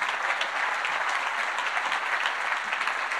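Steady applause from an audience at the closing event of Chile's Construction Week, honoring President Gabriel Boric; dense, continuous clapping fills the hall at even loudness with no voices over it.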